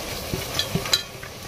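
Spices being stirred into chicken frying in oil: a soft, steady sizzle with a few light scrapes and clinks of a spoon against the pan, close and quiet with no talking.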